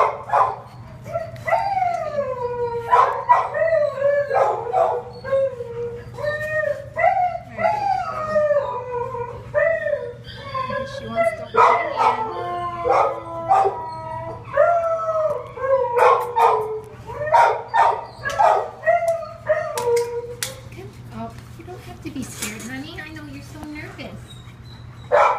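A young dog at an animal shelter howls and barks over and over, its long wavering howls broken by sharp yips and whimpers, loud and close throughout.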